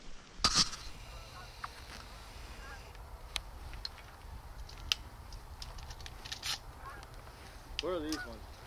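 Geese honk in heavy fog during a hunt outdoors, scattered calls from near and far over a quiet, hissing background, with a louder run of honks near the end.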